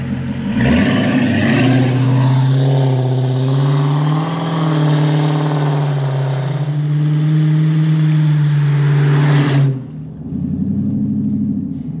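A 2009 Dodge Challenger R/T's tuned exhaust rumbles deeply as the engine pulls through the gears, loud and steady from inside the cabin, then drops off briefly and picks up again.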